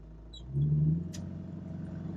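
A 1968 Mustang Fastback engine with a manual clutch hums at idle, then rises briefly into a low revving surge as gas is applied, close and moderately loud for a couple of seconds.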